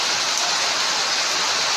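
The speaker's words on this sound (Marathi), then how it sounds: "बापरे पाऊस आलाय" Rain pouring at a Shiva temple, a dense, even rushing hiss that holds steady throughout, heard alone without talk.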